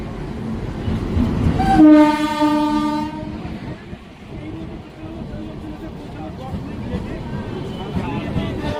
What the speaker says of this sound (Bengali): তার ট্রেন কিন্তু ছেড়ে চলে যাচ্ছে গুয়াহাটির দিকে